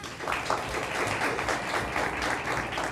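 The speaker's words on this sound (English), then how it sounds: "Let's give Dr. Lewis a round of applause." An audience applauds steadily for a few seconds, a dense, even clatter of many hands clapping together.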